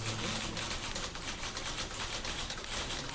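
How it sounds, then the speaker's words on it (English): Many typewriters clacking together in The Beginner's Guide video game, a dense, steady wash of rapid overlapping key taps with no gaps, moderately loud and alone. "What's that sound? Oh, it's typewriters."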